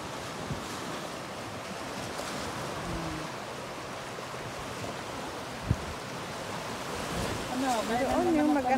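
Ocean surf at Coopers Island, Bermuda, washes steadily with wind noise at a low, distant level, swelling slightly toward the end.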